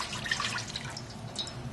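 Chokecherry juice pours steadily into an old steel pot, a continuous close splashing trickle with no voices.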